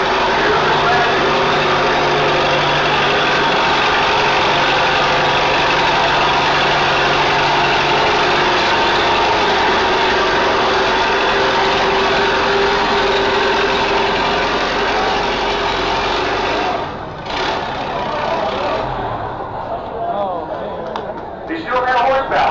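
An antique tractor engine pulling hard at a 5500 lb classic tractor pull: a loud sustained roaring drone that holds steady, then drops away near the end.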